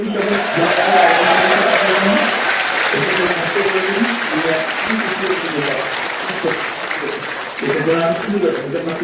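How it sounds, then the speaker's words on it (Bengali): A crowd applauds at the launch of the Chattogram–Sandwip ferry service, with sustained loud clapping throughout while a voice speaks over it. "সবাই মিলে করে একটা হাত তালি"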